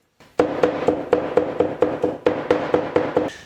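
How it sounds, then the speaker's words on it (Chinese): A cleaver chops garlic cloves into a mince on a cutting board, giving about a dozen sharp, evenly spaced knocks in a steady rhythm, close and loud, with no talking. "大蒜籽用祖传的宝刀把它剁碎。"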